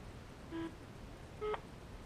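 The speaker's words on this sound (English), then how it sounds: "once the end phone is ringing, you will hear the tone change" A satellite phone making an Android call gives a faint ringing tone, two short beeps spaced about a second apart over quiet background hiss.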